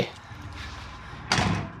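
A door slams shut with a single heavy thud in the horror video game Outlast, preceded by a low, murky ambient background.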